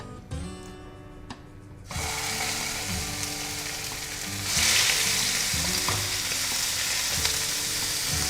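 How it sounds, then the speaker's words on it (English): Beef fillet steaks hit hot oil in a pan and sizzle loudly, a steady crackling fry that swells further midway, with occasional clinks of utensils and no talk. "So our pan is up to heat and we are going to add the steaks to the oil."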